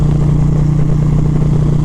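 2023 Indian Pursuit Dark Horse bagger motorcycle cruising in 4th gear at highway speed, a loud, steady engine drone with a strong low hum and wind roar, close to the rider, no talk.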